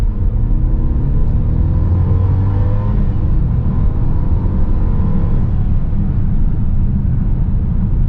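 Engine hum of a 2021 Mercedes GLC 300 4MATIC SUV pulling away, a steady low cabin drone with rising tonal notes from the engine over a constant rumble, no talk.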